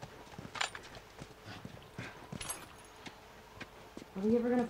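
Horse hooves in the video game The Last of Us clip-clop in a steady trotting rhythm, fairly faint, with a voice speaking briefly near the end.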